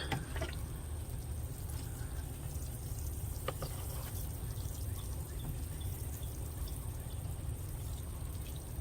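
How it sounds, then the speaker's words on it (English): Water poured over freshly planted spinach seeds in a garden pot, a continuous gentle stream splashing onto soil for several seconds, close and steady with no talk. "I'm going to water it again."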